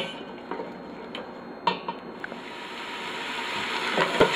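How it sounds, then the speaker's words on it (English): Onions cooking in oil in a pan for split pea soup, giving a soft, steady sizzle with a few light clinks of utensils against the pan, close and fairly quiet throughout. "I'm going to add my onions, and I'm going to cook my onions until they're just translucent"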